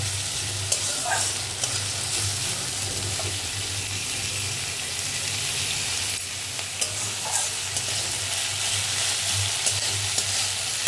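Chopped onion with salt frying in oil that was tempered with cumin, garlic and ginger, a steady close sizzle with occasional stirring scrapes throughout.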